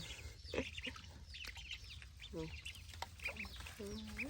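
Faint peeping and quacking calls from young ducks scatter across the clip, with other bird chirps and soft talking in the background.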